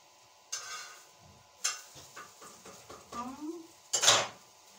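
Steel dishes and small bowls being taken out and handled in a home kitchen, with several sharp clinks and clatters spaced irregularly, close and fairly loud, ending in a brighter metallic clang.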